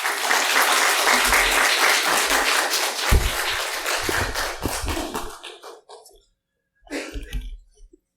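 A church congregation applauds loudly to welcome a missionary at a Sunday service; the dense clapping fades out, leaving a few coughs and throat clearing in the quiet.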